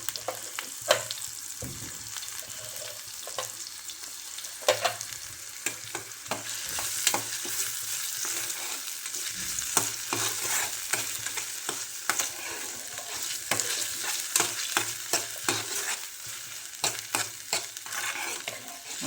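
Tomato frying in oil sizzles steadily while a ladle scrapes and taps the pan in frequent irregular strokes; close and moderately loud, with no speech.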